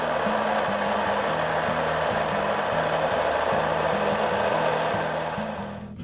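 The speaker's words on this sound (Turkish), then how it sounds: "Brokollerimiz haşlandıktan sonra bir mikser yardımıyla çekeceğiz." A loud, steady motorized whirring of a blender pureeing boiled broccoli, with a slightly pulsing low hum throughout and no talking.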